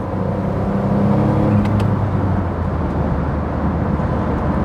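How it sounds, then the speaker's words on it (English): Steady, loud broadband wind roar inside a small Smart car cruising above 50 mph, a continuous rushing hiss over low road rumble with no voices. "As you get over 50 miles an hour is when the wind noise gets bad."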